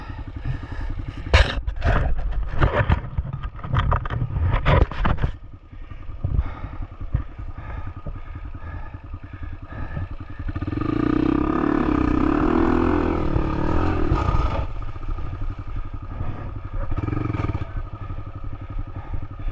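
A motorcycle engine runs close by, rough and steady, with clattering and scraping noises at the start and the engine note swelling louder midway before settling back.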